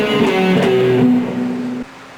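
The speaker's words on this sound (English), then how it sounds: "a good exercise to combine with that is this one." An electric guitar runs through a short fretting finger exercise, a few picked notes sliding between pitches, moderately loud and alone, fading slightly toward the end.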